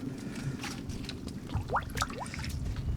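Soft splashing and dripping as a small whitefish is let go back into ultra clear water, a few faint wet plops and trickles close by, quiet and without speech.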